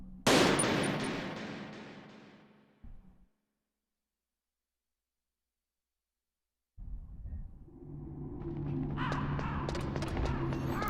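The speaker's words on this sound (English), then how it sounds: "imagine how much it must cost to fire that gun like constantly like that" Heavy gun in the Gears video game fires in a dense loud burst that fades, drops to silence, then resumes as a sustained rattling barrage with game effects.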